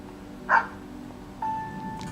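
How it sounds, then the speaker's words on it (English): Snowy, a small dog in the Persona 4 Arena fighting game, gives a single short bark, followed by a sustained electronic tone from the game. "Snowy barks as if in answer."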